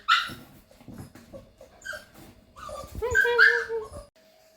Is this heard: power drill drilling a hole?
no